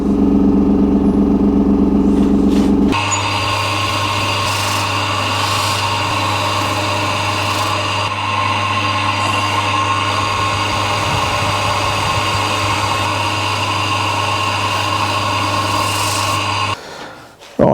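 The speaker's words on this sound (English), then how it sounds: "I think we'll give it a go on the Scotch-Brite mop now." Scotch-Brite mop spinning on a machine while a Suzuki GS motorcycle part is polished, giving a loud, steady motor hum with a continuous abrasive rubbing hiss that runs unbroken for most of the stretch before cutting off near the end.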